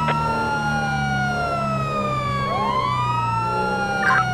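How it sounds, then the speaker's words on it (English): A wailing emergency vehicle siren in GTA 5 sweeps steadily up and down in pitch, loud and continuous, with a brief electronic chirp near the end. "You might want to turn your siren off. I can hear it from here."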